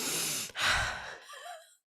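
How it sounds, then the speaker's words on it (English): Heavy, congested breathing close up: a long rasping exhale, a short catch, then another strong breath that trails off into a wavering wheeze before cutting to silence. "Just all different kinds of heavy breathing."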